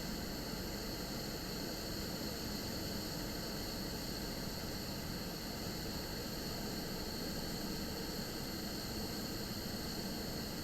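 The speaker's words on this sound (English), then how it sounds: "I just want to wait for the engine to shut down." The engine of a King Air 350 aircraft winding down toward shutdown, a loud steady broadband roar with a whining hiss, continuous and close, with no voices.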